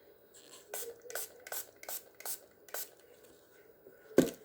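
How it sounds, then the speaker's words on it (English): A spray bottle spritzes onto a small, thin-walled resin mold in six quick, evenly spaced hissing bursts, close and crisp, followed by a sharp knock near the end. "Give this a spray."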